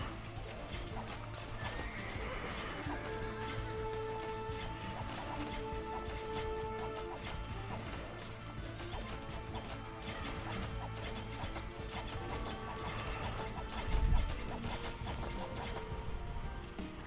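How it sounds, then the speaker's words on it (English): Horses neighing and whinnying over clip-clopping hooves as they run loose from an attacked stable in the Age of Empires 2 Definitive Edition strategy game, steady and close with repeated calls over the galloping. "Horses are loose."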